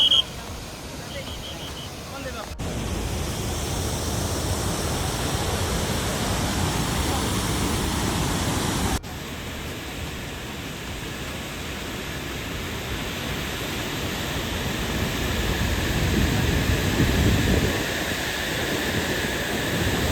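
Water rushing steadily at Chunchi Waterfalls below a dam, a broad, loud roar that runs through the whole stretch with abrupt level changes, with no clear talk over it.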